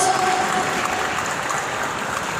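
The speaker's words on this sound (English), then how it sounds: "Come on guys, we need your applause." Steady, dense clapping from a crowd at a product launch event in Chennai, continuous and fairly loud throughout with no voices standing out.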